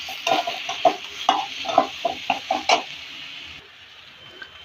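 Lentils, rice and spices for khichuri are stirred in a pot, a run of rhythmic scraping and clacking strokes up close, then a quieter pause near the end.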